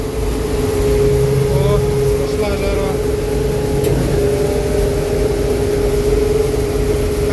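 A John Deere 952 combine harvester engine drones loudly and close by while harvesting winter wheat, bogging down in a steady low rumble that holds throughout with only slight shifts in its labored tone.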